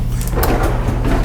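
A short sliding rumble as the drawer-style freezer of an RV refrigerator glides open on its rails, close and fairly loud.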